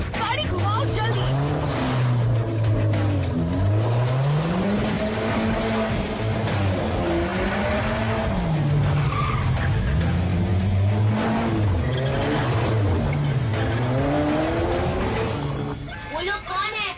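A car speeds through a chase with a sustained engine roar rising and falling in pitch and repeated tire squeals and skids, loud and continuous throughout.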